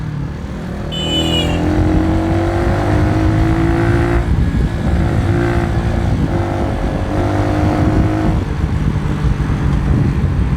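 A Benelli Motobi Evo 200 motorcycle's muffled, restricted exhaust hums loudly and continuously while riding, the engine note climbing through gear changes in a steady, close-up drone.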